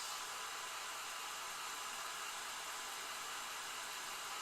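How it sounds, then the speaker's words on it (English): A hair dryer blows continuously to dry paint on a miniature, a steady, even whoosh of airflow, close and unbroken, with no voices. "I'm just going to run the dryer for a few"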